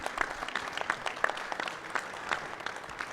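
A crowd at a weekly assembly of a national political movement claps warmly and continuously, a fairly close patter with a few louder hand claps standing out.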